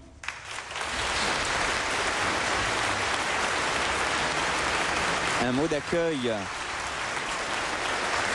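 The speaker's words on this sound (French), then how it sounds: "qui est salué par une salve d'applaudissements" Sustained applause fills a cathedral during an episcopal ordination, broad and steady throughout, with a voice speaking briefly over it near the end.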